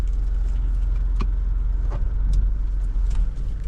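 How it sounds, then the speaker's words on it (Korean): A car carries a runner to the start line of a 42 km mountain trail marathon in Rayong, Thailand, its steady engine and road rumble droning loud and continuous from inside the cabin. "와이프가 운전해서 출발선까지 운전해 줍니다."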